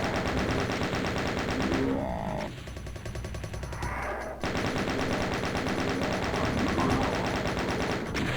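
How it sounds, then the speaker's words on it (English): A chain gun fires continuously in the Doom mod Interception II, a loud rapid stream of shots with a brief lull in the middle before the fire resumes, mixed with game effects. "Probably don't need to be tapping the chain gun against Mancubi."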